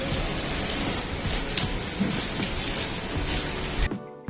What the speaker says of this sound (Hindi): अब मैं अभी अंदर गई वैसे बारिश होने लग गई।